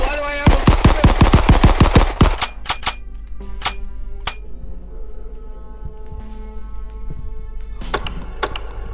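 Rapid burst of automatic gunfire from a gun in the video game Crab Game, a dense string of close, loud shots, followed by a few scattered single shots and sharp clicks over low background noise.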